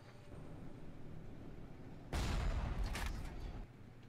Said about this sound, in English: before I fire a grenade launcher and kill myself